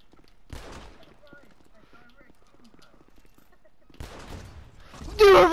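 Gunfire in a Grand Theft Auto V online deathmatch comes in a few sharp, separate bursts with quiet gaps between them, alongside people talking.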